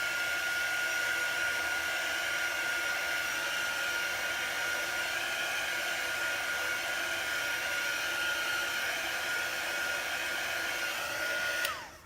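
Hair dryer blowing steadily for about twelve seconds to dry a chalk transfer for a winter woodland scene, a loud, even close whir that cuts off abruptly at the end.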